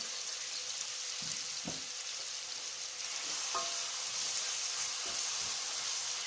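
Onions sizzle in melted fat with a continuous crackling hiss, punctuated by a few soft knocks of a spoon stirring the pan; no speech.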